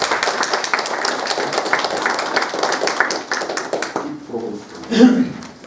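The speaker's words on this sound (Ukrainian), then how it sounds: "давайте оплесками подякуємо" Council members at a session of the Morshyn city council clap for a departing deputy, a dense round of applause that fades after about four seconds, leaving scattered claps and a brief voice.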